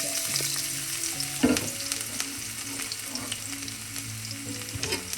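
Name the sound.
ginger and garlic frying in coconut oil in a kadai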